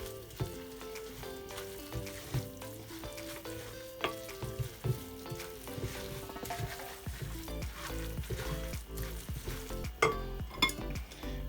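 Carrot cake batter is stirred with oil in a bowl, a wet, sloshing churn with occasional utensil clicks near the end, set under steady background music.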